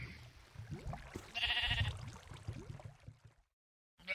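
Minecraft sheep bleat repeatedly in a blocky game world, soft wavering bleats close by, trailing into a brief silence before another sound starts at the end.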